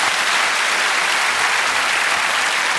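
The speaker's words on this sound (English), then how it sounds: "I'm going to have a round of applause for that." Steady audience applause fills the room during a science show on liquids and cooling gases, a dense continuous patter of many hands at even loudness throughout, with no voices over it.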